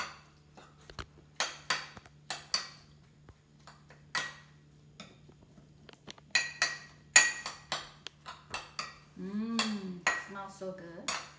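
Kimchi ingredients are tossed by hand in a bowl, making a run of sharp clinks, taps and rattles that come in uneven bursts. A voice briefly joins near the end.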